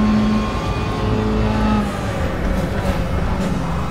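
A Mazda MX-5 Cup race car engine in the RaceRoom racing game, on a run down the last straight at Sepang: a steady, loud engine drone with no pauses.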